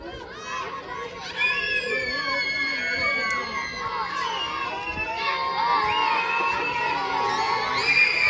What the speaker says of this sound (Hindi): बच्चों का शोर।